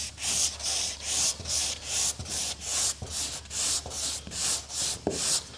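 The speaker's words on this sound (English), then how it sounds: "as we roll through that surface, it gives us the ability to sand the concave surface" A sanding block rolls over a concave automotive body surface in steady back-and-forth strokes, about a dozen rhythmic rasping passes close up with no talk.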